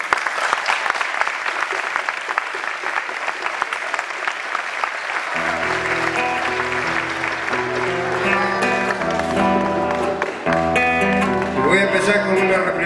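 Audience applause at an anniversary festival for the Plaza Huincul community, a steady dense clapping crowd that runs throughout, with musical instruments starting up underneath about halfway through.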